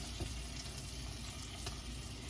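Food browning in warm butter and olive oil in a pan, a steady dense sizzle with faint crackles throughout.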